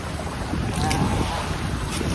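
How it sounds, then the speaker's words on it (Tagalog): A paraw sailboat sailing off Boracay in the morning, heard as a steady, loud rush of wind buffeting the microphone along with water noise and no clear voices. "Sailing ngayong umaga."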